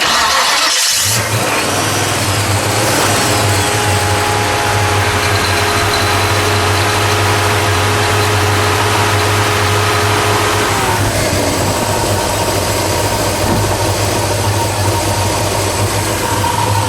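A 1961 AMC Rambler Classic with a Pontiac 307 engine starts and settles into a loud, steady idle, a close, constant rumble that holds throughout. The idle dips slightly lower near the end.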